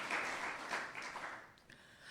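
Church congregation applauding during a sermon: a faint, fairly distant wash of many hands clapping that thins out and fades toward the end.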